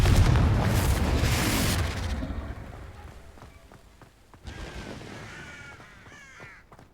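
A Confringo explosive spell blast in the Hogwarts Legacy video game, a loud booming burst that rumbles for about two seconds, then fades into scattered debris sounds and crow-like caws.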